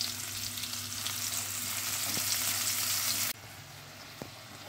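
Onion and garlic fry in a pan, giving a steady, dense sizzle that drops abruptly to a quieter crackle partway through, with a couple of soft knocks.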